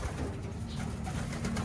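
Pigeons coo softly nearby in a loft, a low, throaty warbling that rises and falls continuously, with no voices.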